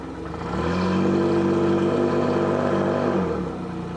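A 2022 Yamaha F40LA tiller outboard boat motor with a 20-inch shaft runs in reverse with a steady, loud engine drone. The pitch rises slightly, holds, then eases back down, with no talking over it.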